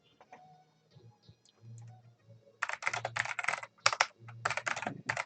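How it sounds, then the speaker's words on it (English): Computer keyboard typing, bursts of rapid close clicking keystrokes in several quick runs after a quieter stretch of low electronic tones. "Keyboard."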